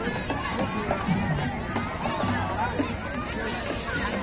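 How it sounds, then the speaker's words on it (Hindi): Dense crowd bustle at a Ganga bathing ghat during a holy dip, a steady wash of many overlapping voices and movement, fairly loud and continuous throughout. "और गाइस भीड़ भाड़ इतनी है, बहुत काफी है भीड़ भाड़"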